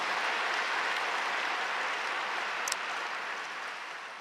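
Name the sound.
church congregation applauding praise team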